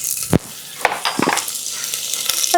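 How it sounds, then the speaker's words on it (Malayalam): Chopped ginger and garlic hit hot oil while a potato curry is being started. A soft, steady sizzle runs under a few sharp clinks of a spoon or pan. "ഇനി ചൂടായ എണ്ണയിലേക്ക് ഒരു ചെറിയ കഷ്ണം ഇഞ്ചി ചെറുതായി ഒന്ന് ചോപ്പ് ചെയ്തിട്ട് കൊടുക്കാം"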